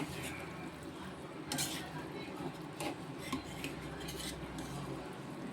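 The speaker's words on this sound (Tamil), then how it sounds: "சுற்றி சைடில் வந்து கிண்டி பார்க்கணும்." Chicken biryani being stirred around the sides of a pressure cooker after cooking, a metal spoon scraping and clinking against the pot in a few sharp knocks over a steady low kitchen hum.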